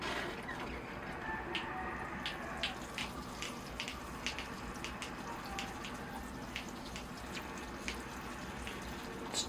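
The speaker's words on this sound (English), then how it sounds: "here I go with the water" Water poured from above onto the soil of a freshly repotted semi-cascade lemon tree bonsai, a steady close trickle and splash with scattered drips throughout.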